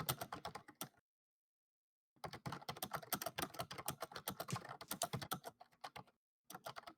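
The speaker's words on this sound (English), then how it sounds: "Man, you're having fun typing." Rapid computer keyboard typing during an online tabletop role-playing session, dense clattering bursts of keystrokes that stop for about a second, then resume steadily and close to the microphone with no talk.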